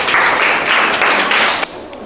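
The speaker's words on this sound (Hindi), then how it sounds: "इनके लिए भी एक जोरदार ताली होना चाहिए" A short burst of loud group clapping greets a correct answer in a general knowledge quiz, lasting under two seconds and then cutting off abruptly.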